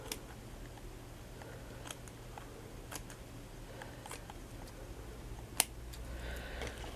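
Scissors snip through decorative trim while a shabby chic plaque is being made, giving a series of faint, sparse clicks spread across a quiet room with one sharper snip near the end.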